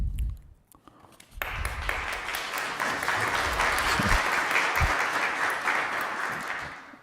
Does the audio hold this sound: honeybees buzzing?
no